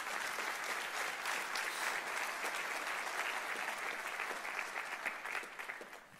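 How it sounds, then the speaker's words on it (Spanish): A church congregation gives a loud round of applause to the Lord during a sermon, dense sustained clapping from many hands that carries on for several seconds before tapering slightly. "Denle un fuerte aplauso al Señor."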